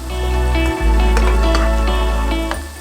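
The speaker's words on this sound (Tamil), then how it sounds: "போட்டுட்டு மறுபடியும் அதை நல்லா ஃப்ரை பண்ணுங்க." Mutton pieces frying with curry leaves in a pan for a chukka-style varuval, a steady close sizzle and crackle with occasional stirring clinks, no talking.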